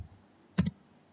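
Two quick clicks of typing on a computer keyboard, close and soft, with no voices.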